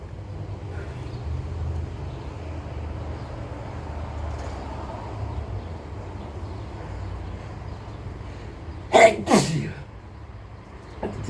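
A single sharp sneeze from someone with a dust allergy bursts out near the end over a steady low rumble of background noise.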